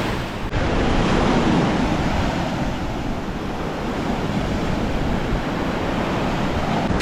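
Sea waves washing onto the beach at Pattaya, a close, continuous roar of surf and foam with wind buffeting the microphone, no voices over it.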